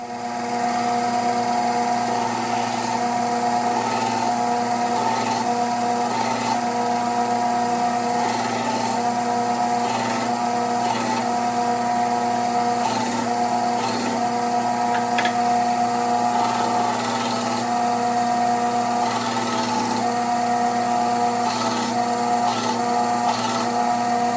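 A knife blade is ground on a 120 grit abrasive belt, a steady loud whirring grind with a constant hum and small scratchy variations running unbroken throughout.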